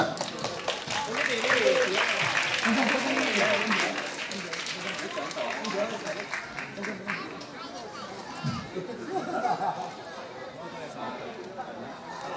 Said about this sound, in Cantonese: 拍手鼓掌